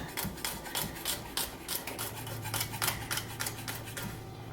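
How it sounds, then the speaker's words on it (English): A knife chops onion and garlic on a cutting board in quick, rhythmic strokes, a run of crisp close taps with a steady low hum underneath. "And now cutting up onion and garlic."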